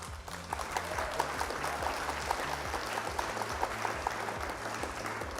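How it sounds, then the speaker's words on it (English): A round of applause fills the space as a steady broadband patter, heard alongside a rhythmic low beat that repeats underneath throughout. "Round of applause for me"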